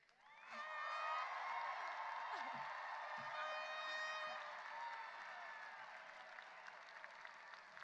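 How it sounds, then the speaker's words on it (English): Class of 2022 commencement crowd erupting into loud cheering, whoops and clapping after a countdown, building fast then tapering gradually over several seconds. "please cheer on your students as our class turns our tassels"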